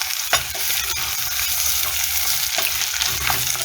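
Beets and other vegetables sizzle loudly in a hot pan as they are stirred, a close, continuous crackle broken by a few sharp scrapes of the utensil.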